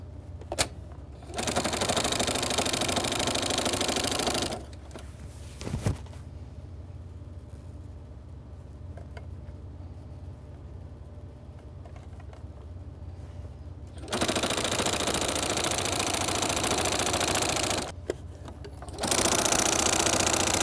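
A sewing machine stitches an apron strap in several loud, rapid, steady runs, separated by quieter pauses while the fabric is turned.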